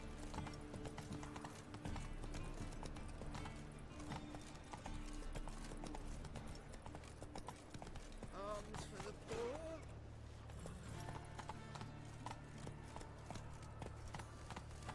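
Hooves of Roach, the horse in The Witcher 3, clip-clop steadily at a trot, loud and continuous, mixed with game music and a spoken voice.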